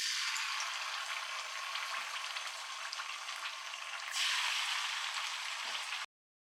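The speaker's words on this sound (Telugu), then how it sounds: "ఇప్పుడు మనము చికెన్ పీసెస్ ఈ ఆయిల్లో వేసుకుందాం." Marinated chicken 65 pieces sizzle and crackle in hot oil, a steady, dense frying hiss that swells a little louder partway through, then stops abruptly.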